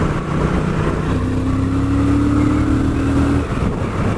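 A Triumph Thruxton RS motorcycle engine pulls hard in gear, a loud, steady drone that climbs in pitch for a few seconds before easing off, heard amid wind rush from the rider's position.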